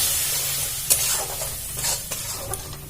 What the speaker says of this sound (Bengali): দিয়ে ভালো করে মশলাটা নাড়াচাড়া করে নেব